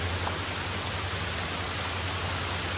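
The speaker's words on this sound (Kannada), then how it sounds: "ಸಿಕ್ಕಾಪಟ್ಟೆ ಮಳೆ ಐತೆ," Heavy rain on the Dudhsagar waterfall trek pours as a steady, dense hiss that fills the whole clip at an even level, with no voices.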